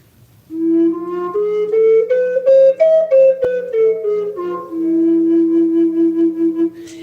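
A breathy, low bass flute plays a slow melodic line in a Byzantine scale on G that rises and falls, over a steady low drone, sustained and fairly close.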